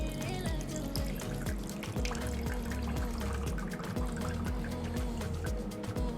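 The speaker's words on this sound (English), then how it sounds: "pour in about 2 ounces of our grapefruit juice" About two ounces of grapefruit juice poured into a measuring cup, heard as a continuous close trickle and splash of liquid with a faint hum, no talking.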